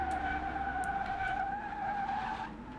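An electric car accelerating hard gives off a steady, loud, high-pitched motor whine with layered tones, holding continuously for a few seconds before easing slightly at the end.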